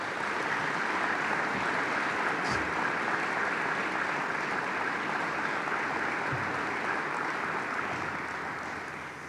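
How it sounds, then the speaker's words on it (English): A full audience breaks into sustained applause at the Sioux Falls State of the City Address 2024, a dense, steady wash of many hands clapping that holds for several seconds before easing off at the end. "Please share with me a heartfelt round of applause for Charlie and Carol, who are here."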